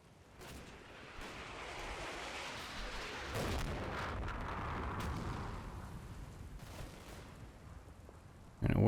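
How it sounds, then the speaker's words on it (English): Mortar rounds land in the video game Combat Mission: Battle for Normandy as rolling, distant booms over a continuous rumble, with a sharper blast near the end. "he'll be seeing the explosions from the mortar going off"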